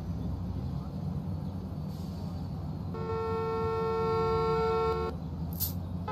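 Car horns sound in a parking-lot management video game, a sustained harmonic honk holding for about two seconds midway over a low engine and crowd bed.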